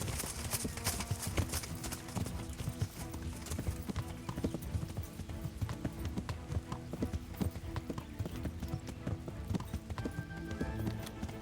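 Rapid, steady clip-clop of horse hooves at a trot in a video game, close and rhythmic, with a brief whinny-like sound near the end.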